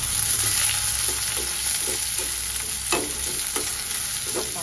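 Chopped onion sautéing in a pan, a constant close sizzle with scattered soft scrapes and taps of a spatula stirring, no talking.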